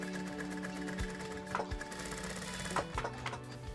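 Sewing machine running in a shop in Gyodong market, a dull, rhythmic mechanical whirr with a few sharp clacks and thumps, fairly close and alone without talk.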